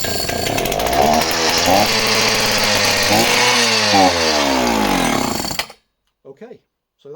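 An Oleo Mac 272 project chainsaw with a cracked side cover and missing HT lead runs loud and steady with harsh revving, then abruptly cuts out when choked, leaving silence broken by a couple of faint knocks.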